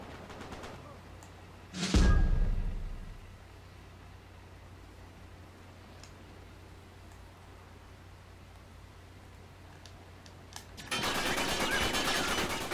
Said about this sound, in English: I was trying to get away from this guy's gunfire